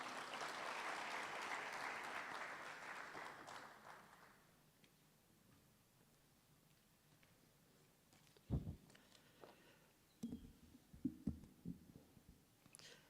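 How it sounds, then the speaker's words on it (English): Audience applause at a mayoral matric excellence awards ceremony at a TVET college, a broad steady clapping wash for about four seconds that fades out, followed by sparse faint knocks and handling bumps. "a good round of applause as he comes forward"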